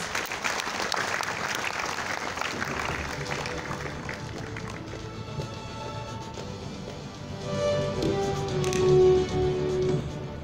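An audience at an entrepreneurship event claps for a speaker's introduction, dense steady clapping that carries on for about ten seconds and grows a little fuller near the end, with a faint crowd murmur underneath.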